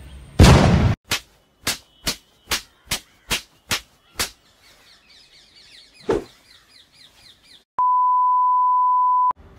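A TikTok-style gun sound effect: a loud blast, then eight rapid sharp shots in a row, a chirpy fluttering tail and one more hit, ending in a steady electronic beep tone.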